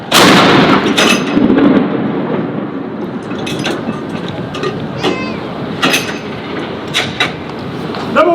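Cannon rounds of a 21-gun salute fired by US and UK soldiers at Edinburgh Castle, one heavy boom opening and its rumble rolling away, followed by a few sharper distant reports in open air.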